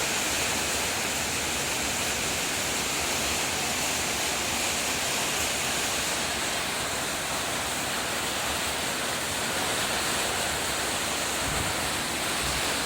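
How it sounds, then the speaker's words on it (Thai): Heavy rain pours down in a loud, constant roar, with water running hard off a roof, close and unbroken throughout. "สังเกตตรงหลังคานะคะ น้ำไหลตรงหลังคาแรงมาก"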